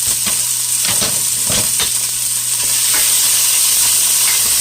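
Chopped onions sauté in avocado oil in a pan, with a constant bright sizzle up close and a few scraping stirs along the way.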